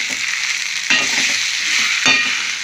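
Radish greens curry frying in a pan gives a steady, close bright sizzle, with a couple of louder stirring scrapes mixed in and no talk.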